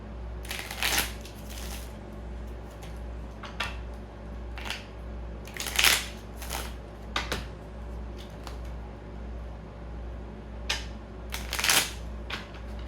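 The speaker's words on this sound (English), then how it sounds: "Now we're going to shuffle again, shuffle again." A deck of tarot cards shuffled repeatedly, with crisp riffling bursts recurring every few seconds over a low steady hum, close and fairly quiet.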